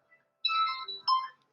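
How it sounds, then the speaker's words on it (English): Phone alarm ringing as a short, bright electronic melody of two quick chirping bursts, moderately loud in a quiet room with no one speaking. "that's my alarm."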